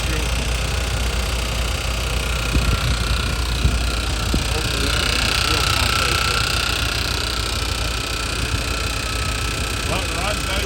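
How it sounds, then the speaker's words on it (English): An electric fuel pump hums on an idling 1985 Dodge W350 pickup that has sat unused for a while. Its steady whir rides over the close, even rumble of the engine. "That noise you hear is the electric fuel pump."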